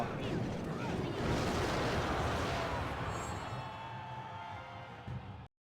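Rocket spell landing in a Clash Royale match, a loud rumbling explosion-like roar that fills the air and slowly fades before cutting off abruptly.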